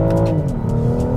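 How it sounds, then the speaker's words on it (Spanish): BMW X5 in Sport mode at full throttle, its engine a steady loud roar with rising harmonic tones throughout, close and continuous with no talk. "Lo primero es mostrarles la aceleración. Verifico que está en modo Sport. Voy a fondo."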